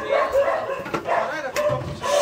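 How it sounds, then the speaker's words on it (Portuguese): A small dog gives a few short, close barks and yips between bursts of nearby human voices. "Cachorrinho dele."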